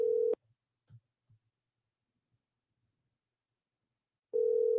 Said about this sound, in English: Pick up the phone